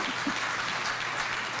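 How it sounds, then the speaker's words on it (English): Scattered clapping from a small audience in a classroom or lecture setting, brief and fairly close. "one clap for that"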